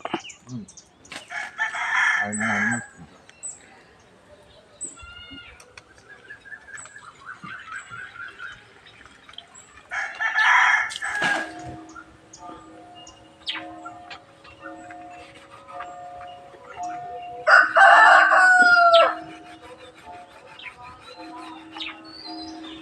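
Chickens kept at home crow and cluck nearby, with three loud rooster crows spaced several seconds apart and softer clucking and bird chirps between them.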